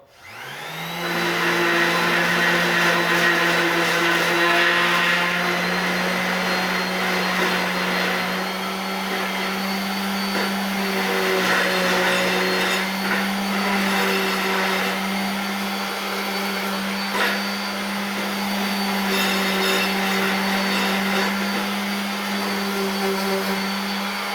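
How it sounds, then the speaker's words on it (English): An orbital sander whirs against a wooden wine holder, starting up abruptly and then running as a steady, loud, sustained hum with slight shifts in pitch as it moves across the wood, with no talking. "put your orbital sander, or any kind of sander, you can use sanding block"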